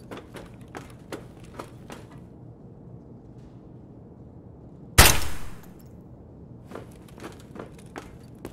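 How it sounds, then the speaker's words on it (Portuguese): Single loud gunshot in the video game Escape from Tarkov, a sharp nearby crack with a short decaying tail, set between soft in-game footsteps and light rustling before and after. "Um tiro."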